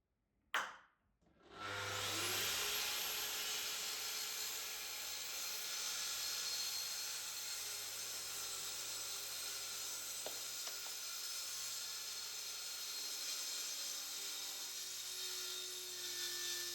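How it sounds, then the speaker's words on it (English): Track saw cutting across the end of an oak tabletop, a sharp start followed by a long, steady, loud high-pitched whine with no talking. "I could continue the build by squaring out the ends with a track saw."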